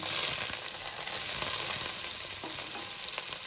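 Half-inch potato pieces, half a kilo, fry in a pan with green chilies, ginger and garlic for an aloo tahari. The steady, dense sizzle runs evenly throughout, close and fairly loud.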